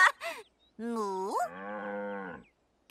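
A cartoon cow gives a loud, drawn-out moo, rising then holding steady, with brief voice sounds just before and after.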